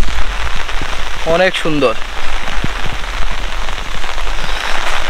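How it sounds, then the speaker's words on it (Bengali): Steady outdoor rain in Netrokona, Bangladesh falls continuously, with drops striking the camera, while someone speaks briefly over the wash of water. "বৃষ্টির কারণে আমি ঠিকভাবে দেখাতে পারছি না, কারণ আমার ক্যামেরাতে পানি পড়তেছে"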